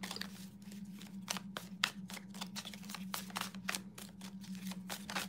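Rapid, repeated riffling snaps of a Hoodoo tarot deck being shuffled up close, in quick bursts over a low steady hum.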